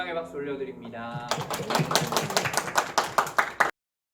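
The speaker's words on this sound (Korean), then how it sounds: "우리 하나님께 영광의 박수 올려드립니다" A church youth service breaks into applause after someone speaks. Clapping swells quickly, then thins to a few separate, sharp claps before it cuts off abruptly.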